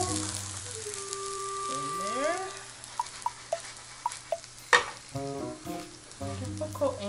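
Mashed potato fries in a pan with a low continuous sizzle, punctuated by several sharp taps and scrapes of a utensil, one louder clack near the end, heard close up.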